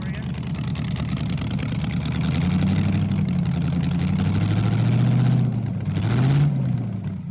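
A Ford Crown Victoria with a swapped-in LS V8 engine running on one dead cylinder revs up and falls back twice, its rough, uneven engine note loud and close, with a person talking over it.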